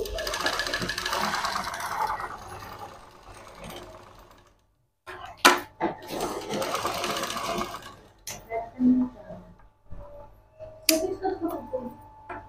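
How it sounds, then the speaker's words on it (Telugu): A sewing machine stitches the neckline of a half saree blouse in bursts of rapid mechanical whirring, stopping and restarting several times up close, with brief pauses and light handling noises between runs. "డబుల్ కుట్టుకుంటూ కుట్టాలి."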